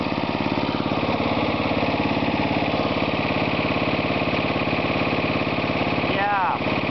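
A propane-fueled lawn tractor engine idles steadily up close, a continuous loud mechanical drone with fast regular pulsing, and a brief whine rises near the end.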